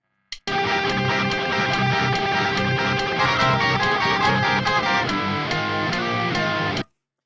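Electric guitar riff, a steady dense strummed part with notes cut short while moving around the scale, loud and continuous for about six seconds before stopping abruptly.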